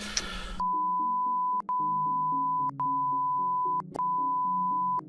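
A steady, high, pure censor bleep covers a word, holding loud for several seconds with a few brief gaps, over faint muffled background tones after a short burst of sound.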